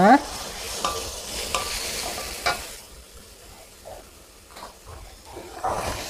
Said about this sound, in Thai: ผัดให้หมูสุกก่อนเลยค่ะ